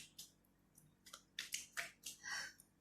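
Tarot cards being shuffled by hand, a series of short crisp riffling and snapping bursts, close and fairly quiet, with no talk.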